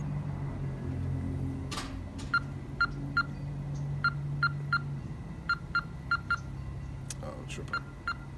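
A phone number is tapped in on an Android phone's keypad, about a dozen short evenly spaced dialing tones in quick succession, heard close and clear over a low background hum.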